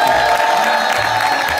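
Theater crowd at a comedy show in Douala cheering and applauding as the performer takes his bow, a loud continuous roar of claps and shouts.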